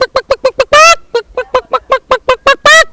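A voice imitates a rooster crowing, a rapid series of about a dozen short clipped syllables broken by two long, loud, strained crows, close and alone without other sound.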